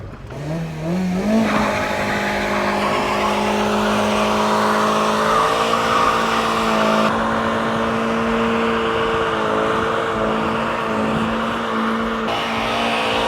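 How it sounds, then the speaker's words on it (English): Mazda Miata doing a burnout: the engine climbs into a sustained high rev and holds there loudly as the tires squeal and skid continuously, close and unbroken. "Now I think we're gonna do burnouts till the tires pop."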